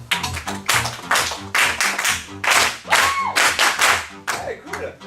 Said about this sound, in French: Applaudissez après moi, Isabelle Slama.